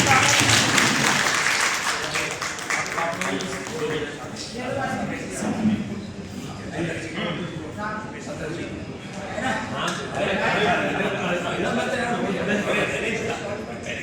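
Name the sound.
audience applause welcoming a guest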